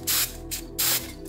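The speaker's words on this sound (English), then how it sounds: "I'm just gonna spray some" Tresemme hairspray sprayed onto a miniature model being painted, two loud hissing bursts close to the mic, each lasting about a fifth of a second, with a short gap between them.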